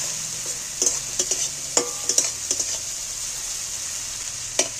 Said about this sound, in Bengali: রসুনটা তেলের উপর একটু পেঁয়াজের উপর নেড়ে নিচ্ছি